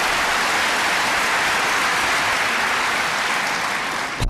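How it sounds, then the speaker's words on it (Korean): Hall audience at a Christian mission conference lecture breaks into continuous, even applause that sounds like steady rain, holding at constant loudness before cutting off abruptly. "박수 치면 제가 곤란합니다"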